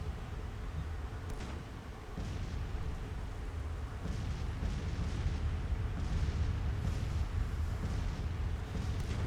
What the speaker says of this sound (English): Most, if not all, of my artillery is firing.